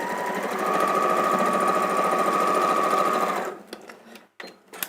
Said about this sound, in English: you're going to sew along one side again, straight stitch, all the way along